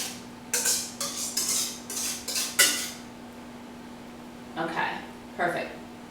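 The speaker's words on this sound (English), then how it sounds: "Mix it all around, make sure it looks pretty." Quiche filling being stirred in a pie shell in a home kitchen, giving a run of clinking utensil-on-dish scrapes and taps, then two short isolated clicks after a pause, close and moderately loud over a steady low hum.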